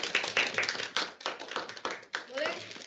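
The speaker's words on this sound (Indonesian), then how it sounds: "Kita beri tepuk tangan untuk Mbak." A short burst of hand clapping from a small group in a meeting, quick and uneven, lasting a few seconds.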